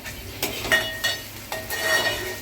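Onion frying in a pan for masala dosa makes a soft sizzle under repeated clinks and scrapes of a utensil stirring against the pan, several short strikes in quick succession.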